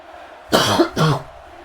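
Two sharp coughs come in quick succession, loud and close, against a quiet background.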